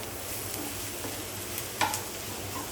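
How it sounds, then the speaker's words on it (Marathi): Onions frying in a pan until golden brown, a steady close sizzle throughout with one brief stir or clink partway through. "कांद्याला चांगला मारून घेऊया आता चांगला कांदा परतून झालेला आहे"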